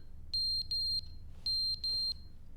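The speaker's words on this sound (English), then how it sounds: "It sounds like a smoke alarm that wants its battery changed." An electronic smoke alarm low-battery warning, heard in a video game, chirps in two pairs of sharp, high beeps, a steady pulse pattern, fairly loud over a quiet low hum.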